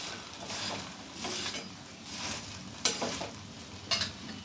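Dhapata flatbread roasts on a pan with a soft steady sizzle, broken by a few light scraping and stirring sounds close by.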